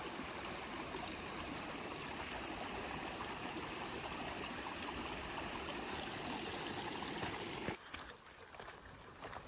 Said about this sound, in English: Little creek crossing almost immediately here.